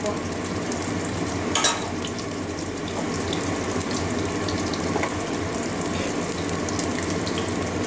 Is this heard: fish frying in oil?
yes